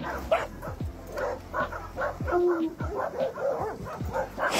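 A dog barks in short, repeated yaps and woofs mixed with whimpers and yips at close range, while people talk now and then over the barking.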